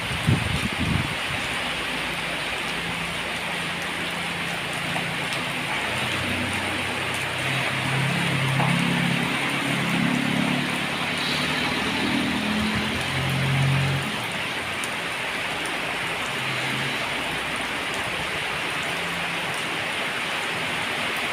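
Heavy rain pours steadily outdoors in Huai Prap, Rayong, Thailand, during a second shower. A dense, even hiss continues throughout, with a faint low rumble partway through.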